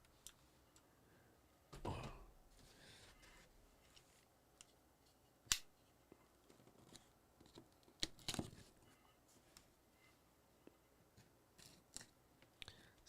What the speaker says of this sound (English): Something about opening a package.